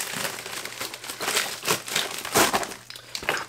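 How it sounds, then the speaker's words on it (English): A package torn open with keys gives close, crinkly plastic rips and crunches in uneven bursts, with no voices. "I'm just kind of like too excited to rip into the package and see what it is."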